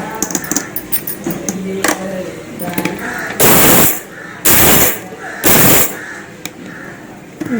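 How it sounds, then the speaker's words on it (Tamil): Three loud bursts of a mixer grinder whirring, each lasting about half a second, separated by short pauses, following quieter kitchen clatter and a voice, grinding lentils for thoothuvalai thuvaiyal. "இதை அப்படியே அரைச்சி எடுத்துக்கலாம்."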